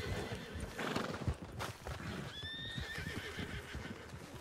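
Horse in the Red Dead Redemption II video game, a loud neigh with hooves clip-clopping around it, close and fairly clear over a low background.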